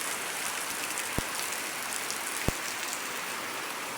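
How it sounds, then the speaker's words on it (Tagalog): Heavy rain pours down steadily in a dense, continuous hiss, with two sharp knocks breaking through the downpour. "Lakas ng ulan, no? Grabe."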